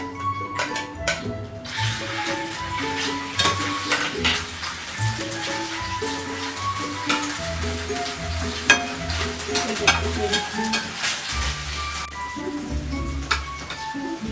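Squid and chicken sizzle and crackle steadily in a hot pan with cabbage, a continuous close frying hiss with occasional stirring clinks and pops.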